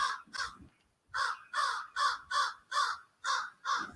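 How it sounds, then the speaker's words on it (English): A raven caws in harsh, loud calls close by: two quick caws, a short pause, then a run of six evenly spaced caws in a steady rhythm, with no other sounds around them. "this raven is not happy."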